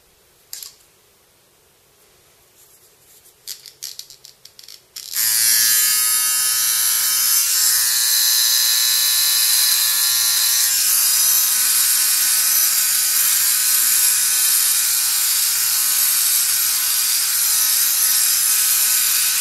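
An electric razor trims a short beard. After about five quiet seconds of faint handling noises, a loud, close, continuous buzz switches on and holds steady to the end.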